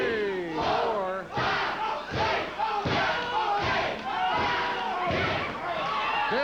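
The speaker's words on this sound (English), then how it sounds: "As the crowd was counting" Wrestling crowd in an arena chanting a count in unison, roughly one loud shout per second, rhythmic and massed, with thuds mixed in.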